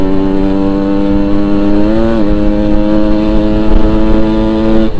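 A Yamaha RX-King two-stroke motorcycle idles loud and close with a steady buzzing drone, briefly blipping the throttle near the middle before settling back to a constant hum.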